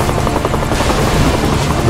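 Helicopter rotor chopping loudly and steadily in the video game ISDefense, a close, continuous thudding drone with a whining buzz on top, heard on its own without talk.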